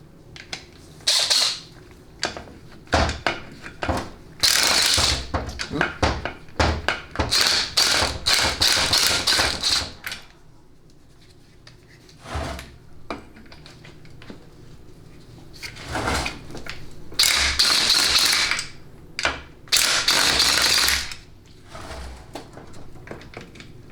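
A ratchet works loose the 15 mm extension housing bolts on a 4L65E transmission, with bursts of quick clicking separated by clunks and tool handling. The work is close and the rhythm is irregular.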